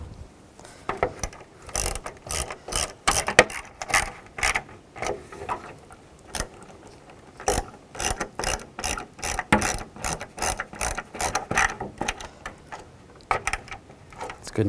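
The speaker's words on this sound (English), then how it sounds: "The 10mm socket, you can tighten these down." Ratchet with a 10mm socket snugging plastic grille bolts on a 2002-2005 Chevrolet Trailblazer, rapid close clicking in repeated bursts with short pauses between strokes.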